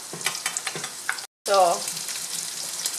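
Garlic added to a hot pan alongside bacon and pork, letting out a burst of loud sizzling that settles into steady frying, with a brief spoken word and some stirring just before.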